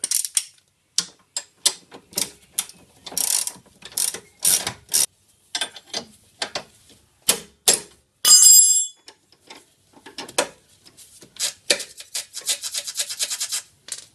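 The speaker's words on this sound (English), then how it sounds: "Now we can swap to the ratchet again." A hand ratchet clicks in repeated bursts of sharp rapid pawl ticks with short pauses between strokes, loud and close, while front control arms are being changed on a Subaru.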